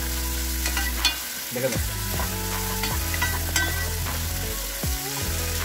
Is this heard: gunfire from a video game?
no